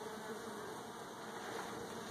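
Honeybees hum around an open hive colony in a beekeeping yard, a steady, continuous close buzz with no pauses.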